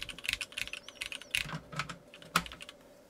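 Keys clatter on a Noxary X60 mechanical keyboard fitted with vintage black switches, a quick irregular run of close, crisp clicks and thocks with one sharper strike near the end.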